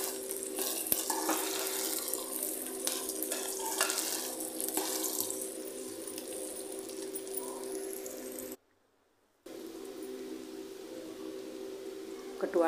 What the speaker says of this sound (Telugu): కందిపప్పు యాడ్ చేసేసి మొత్తం కందిపప్పు కూడా ఆయిల్లో ఫ్రై చేసుకోవాలండి